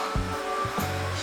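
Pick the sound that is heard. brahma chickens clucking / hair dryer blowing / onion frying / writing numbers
hair dryer blowing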